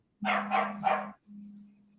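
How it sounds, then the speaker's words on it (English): A dog barks three times in quick succession, close and fairly loud, followed by a brief low whine or growl. "I hear somebody's dog."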